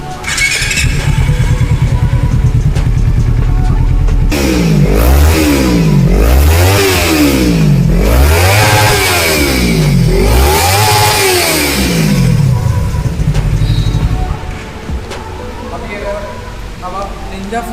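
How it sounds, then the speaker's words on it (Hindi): A Kawasaki Ninja 300 with an upgraded exhaust idles close by, then revs hard about five times in quick rising-and-falling bursts before settling back to a rumbling idle. "जैसे कि निंजा 300 में अगर आप एग्जॉस्ट अपग्रेड करते हैं तो उसमें इस तरह का साउंड आने वाला है।"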